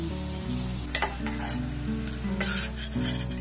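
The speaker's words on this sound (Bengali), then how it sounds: "একইভাবে সবগুলোকে আমি খুব ভালোভাবে ভেজে নেব" Fritters made from palm juice deep fry in hot oil with a soft, continuous sizzle. A few sharp metal scrapes and clinks come through from a utensil in the pan.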